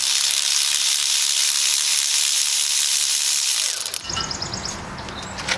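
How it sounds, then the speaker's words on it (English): An electric ratchet loosening a 10mm bolt on a car, a loud steady high-pitched mechanical whirring that cuts off abruptly, followed by clicking and light rattling. "I'm going to use the electric ratchet, but you can use a regular one."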